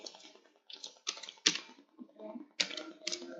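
Someone types on a computer keyboard in short runs of quick, close clicks with a few sharper key strikes, and a voice talks quietly in between.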